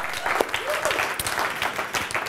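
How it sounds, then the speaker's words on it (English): Brief applause from a personal development community gathering, close and fairly busy, with a faint voice or cheer threaded through the clapping. "I think that deserves a round of applause"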